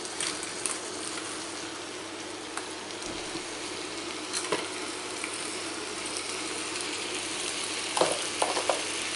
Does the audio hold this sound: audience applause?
no